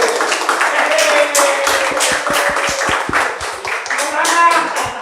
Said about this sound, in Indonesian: Tepuk tangan untuk Budi Adi Putro.